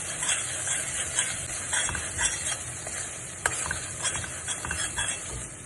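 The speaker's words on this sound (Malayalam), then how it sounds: "ഇത് ഒരു 1 ടേബിൾ സ്പൂൺ മുളക് പൊടി ചേർത്ത് നല്ലോണം ഫ്രൈ ചെയ്തെടുക്കാം" Chili powder fries in chicken curry with a steady hiss and sizzle while a spoon stirs and scrapes the pan up close, with one sharp clink partway through and no speech.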